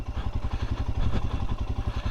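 A 2022 Royal Enfield Himalayan Scram 411 single-cylinder motorcycle idles up close, its engine putting out a steady, rapid low thumping pulse with a slight mechanical clatter.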